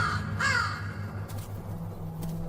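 A wild crow hunting for a brown rat gives a single loud, harsh caw up close. A fainter second call follows, over a low background hum.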